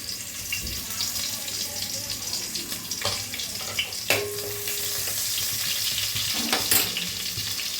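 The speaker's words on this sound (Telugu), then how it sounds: "ఆయిల్ హీట్ ఎక్కింది కదండి ఉల్లిపాయలు వేసుకుందాము" Sliced onions sizzle and crackle as they fry in hot oil, a steady close hiss with occasional stirring scrapes and clinks, heard alone without speech.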